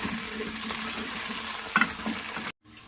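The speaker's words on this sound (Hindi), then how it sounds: "अब मैं चिकन ऐड करके भी तकरीबन 10 मिनट दोबारा इसको भूनूंगी।" Chicken and onions frying in a pan for a restaurant-style chicken karahi, a steady low sizzle with a few brief clinks of stirring before the sound cuts out abruptly near the end.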